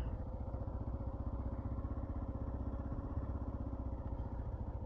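Harley-Davidson motorcycles rumble faintly on a dirt road near Bartlett Dam Campground, with a steady, rapid low thumping throb that stays distant and quiet throughout.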